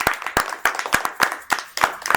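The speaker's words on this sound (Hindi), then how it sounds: "आप सब जोरदार तालियों द्वारा सर का अभिनंदन करें।" A small audience at a Navratri poetry gathering claps loudly for a poet, distinct close hand claps in a brisk, uneven rhythm, each sharp strike ringing briefly in the room.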